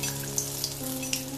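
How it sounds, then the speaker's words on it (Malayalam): Neyyappam, sweet fritters of batter, fry in hot oil in a pan, a close, steady bubbling sizzle with a few small pops and crackles, no voices. "എന്നിട്ട് തിരിച്ചു മറിച്ചുവിട്ട് ഫ്രൈ ചെയ്ത് കൊടുക്കണം"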